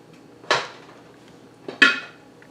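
Two sharp metallic clanks a little over a second apart as the weight is lifted off a pressure canner used for canning potato chunks, close and distinct against a quiet background.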